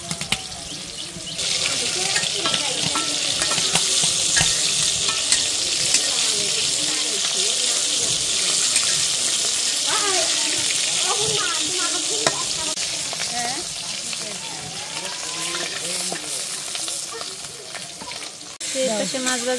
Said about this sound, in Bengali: পাশে মাছ ভাজি হয়ে গেছে গা, আর এই পাশে তরকারির সবজিটা দেওয়া হয়েছে